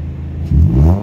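A 2020 Toyota Corolla engine revs up for acceleration, starting as a steady idle hum and then swelling into a loud, rising growl about halfway through the short burst, heard close-up.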